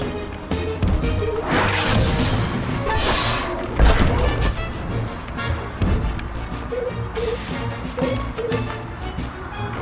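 Blows land on an enemy in the video game Costume Quest 2: several loud thuds and smashing hits, the strongest near four seconds, over busy game music and effects, with occasional talking.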